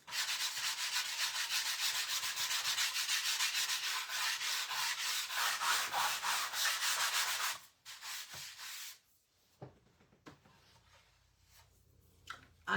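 A power sander runs loud and close on wood for about seven and a half seconds, a steady buzzing rasp, then cuts off, leaving faint scattered handling noises.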